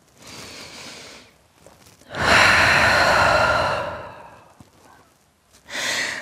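A long, deep breath during a vinyasa yoga flow in downward dog: a soft breathy inhale, then a louder, fuller sighing exhale, followed by another breath starting at the end, close and alone without talk.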